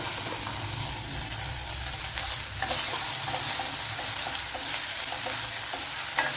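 Green chillies sizzling in coconut oil in a steel pot for a sadya-style parippu curry, a continuous loud hiss close up with light clicks and scrapes of stirring.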